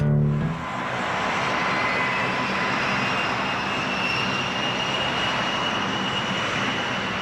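Republic A-10 Thunderbolt II Warthog jet aircraft, a loud sustained engine roar with a high whine running through it, steady and close throughout after a brief opening sound.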